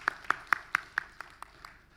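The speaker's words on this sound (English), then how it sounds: "Big round of applause once again" A few people in an audience at a conclave on sports and drugs clap slowly and evenly, about eight separate claps that fade gradually, sparse rather than a full ovation.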